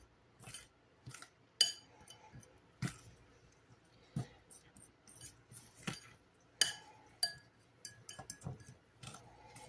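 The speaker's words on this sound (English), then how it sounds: "I'm just going to take a fork. Just kind of work this around a little bit." A fork works cold butter into flour in a bowl for pie crust, giving scattered light clinks and scrapes against the bowl at an irregular, quick rhythm, close and fairly quiet, with no talk.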